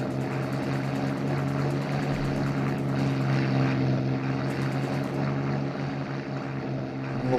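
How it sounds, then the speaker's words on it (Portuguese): A propeller warplane drones past in a World War II Pacific flight game, a loud, steady engine roar with rich buzzing harmonics that holds throughout, surging slightly midway, with no talk over it. "o avião vai me pegar aqui"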